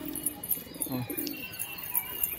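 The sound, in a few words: pigeons cooing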